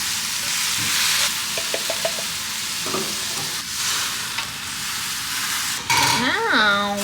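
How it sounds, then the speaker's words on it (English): Onions sautéing with salt in a pan give a steady, close sizzle, with a few light stirring taps and a brief rising whine near the end. "We're gonna saute these. The onions, salt."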